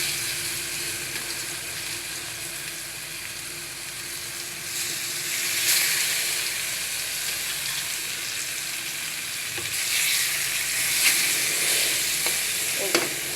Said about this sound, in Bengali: এইটা এখন আমি উঠিয়ে পাল্টিয়ে ভেজে নেব।